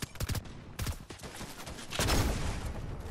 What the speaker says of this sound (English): Your own team is shooting you.